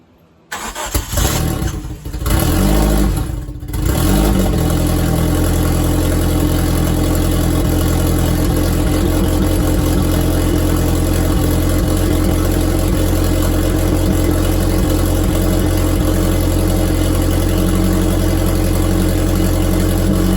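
Turbocharged Hyundai Tiburon with a smoking, worn-out motor cranks briefly, catches and fires, then settles into a loud, steady idle with a low rumbling drone that holds for the rest of the clip.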